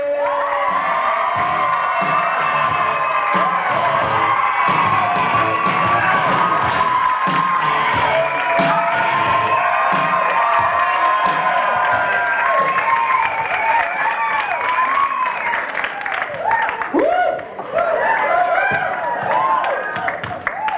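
A comedy club crowd at the Tempe Improv cheers and applauds loudly and steadily for a stand-up comedian, with whoops and shouts rising over dense clapping throughout.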